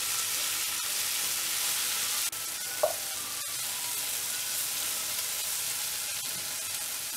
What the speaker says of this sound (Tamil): லோ ஃப்ளேம்ல ஒரு 10 minutes இது நல்லா ஃப்ரை ஆகணும்